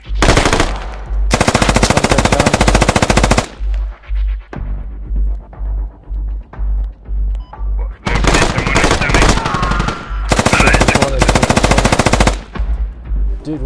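Machine gun fire in the military shooter game Squad: long, loud automatic bursts broken by a stretch of slower, evenly spaced single shots, with voices talking at times.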